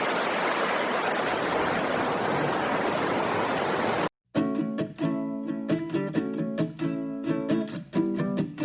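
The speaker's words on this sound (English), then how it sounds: "Look at this stream." A clear mountain stream in the Smoky Mountains rushes loudly and steadily for about four seconds, a close, broad roar of flowing water, before cutting abruptly to rhythmic music.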